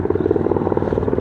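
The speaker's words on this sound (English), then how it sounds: "Little black helicopter action." A black National Guard helicopter flying overhead, its rotor giving a loud, steady rapid thudding throughout with no talk over it.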